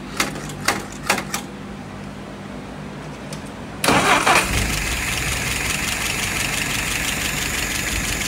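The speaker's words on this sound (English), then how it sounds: "Do the proper tune-up on your motor and it will start just like that." An outboard motor cranks with a few sharp mechanical clicks, then catches abruptly and settles into a loud, steady running drone that holds to the end, close by and with no talking.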